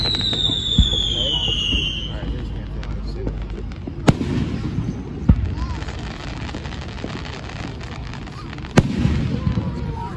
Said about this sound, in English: Now they're just launching the same fireworks.